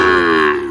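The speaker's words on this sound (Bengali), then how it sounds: "শাহিওয়াল জাতের সুন্দর সুন্দর ষাঁড় বাছুর।" A Sahiwal bull calf at a cattle market in Faridpur, Bangladesh, lets out a single loud, close moo that tapers off at the end.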